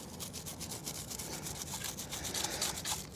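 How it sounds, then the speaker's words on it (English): A brush scrubs a grimy motorcycle chain on a 2025 Honda Rebel 500 with close, steady back-and-forth rubbing strokes that give a continuous scratchy bristle sound, with no talk heard. "So I like to spray first and then agitate, scrub."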